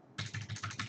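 Typing code on a computer keyboard, a quick run of about five or six close, crisp keystrokes in a steady rhythm.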